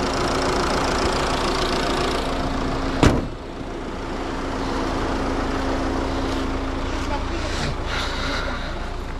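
2024 Tata Harrier with a 2.0-litre engine idling under an open bonnet, a steady close mechanical hum with one sharp knock partway through, while people talk over it.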